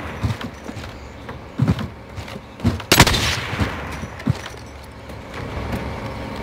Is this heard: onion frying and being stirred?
no